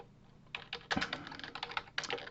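Typing on a computer keyboard, with fast irregular clusters of clicky keystrokes, close and moderately loud, and no talking.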